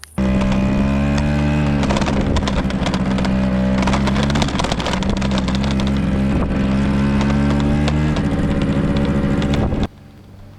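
A moped engine drones steadily and loudly for about ten seconds, its buzzing tone holding close while riding through a village late at night, then cuts off abruptly near the end.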